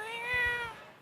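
A person imitates a ghostly cat with a single drawn-out, wavering meow, close and fairly clear, lasting about a second.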